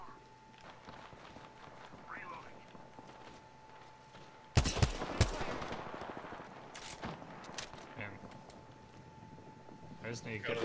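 Apex Legends game gunfire breaks out in a loud burst of rapid shots about midway, followed by scattered further shots and action noise over a steady hum, with voices talking during the fight.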